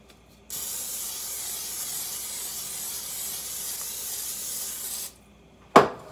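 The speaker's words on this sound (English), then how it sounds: "I'm gonna spray the pan." A steady hiss of cooking spray onto a pan for about four seconds, then stops, followed by a sharp clunk as something is set down.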